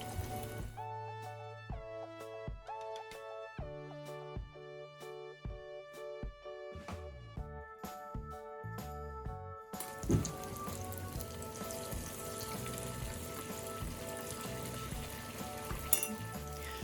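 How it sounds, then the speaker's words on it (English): Hot water cornbread frying in a skillet, a steady crackling sizzle like rain on a surface, with soft background music early on and a louder, denser frying hiss later, no talk. "I'm flipping these over, making sure they're browning evenly"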